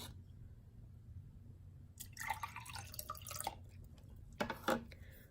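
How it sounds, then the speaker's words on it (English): Water splashes and trickles into a cup in a short pour, stops, then a second brief splashy pour follows; close and fairly quiet. "I'm going to pour the water in both cups and mark where the water stops."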